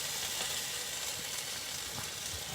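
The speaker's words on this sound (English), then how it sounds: "Ooh, you can hear the sizzle, David." Continuous hissing sizzle of beans frying in a pan, steady and close, with a few faint scraping stirs.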